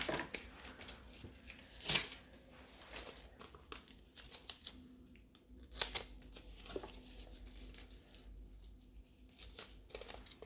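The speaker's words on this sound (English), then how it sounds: "I should cut the form straight away." Scissors snip through a plastic gel nail form while sculpting coffin-shape gel nails, giving a few close, crisp cuts and crinkling rustles spread unevenly over a quiet background.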